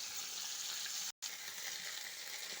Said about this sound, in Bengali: এখন আমি এটা সব দিয়ে দেব। দিয়ে প্রথমে আমি ভেজে নেব।